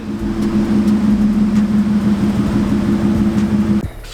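A Ford 5.0 pickup truck engine runs at a steady, loud, close idle with a deep even rumble, then cuts off abruptly near the end.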